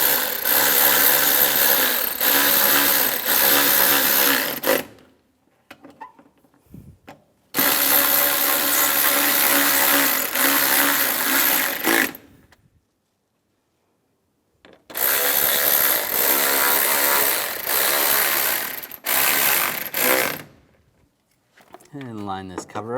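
A ratchet tightens the four screws on the starter of a 2004–2010 BMW X3, heard as three loud, close, whirring bursts of about five seconds each, separated by quiet pauses with faint handling noise.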